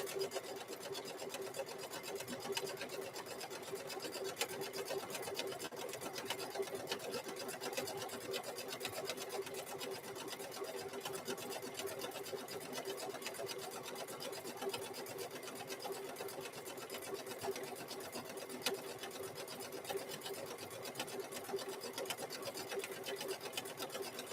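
A sewing machine runs steadily, stitching a fabric seam on a microwave bowl koozie, a continuous fast whirring hum with rapid needle ticking, close and alone without pauses.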